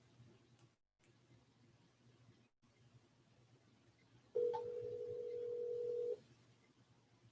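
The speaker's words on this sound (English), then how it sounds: "Alexa, call my phone." Alexa smart speaker placing a call to a phone: a steady electronic ringback tone holds for about two seconds over faint room noise, with no speech.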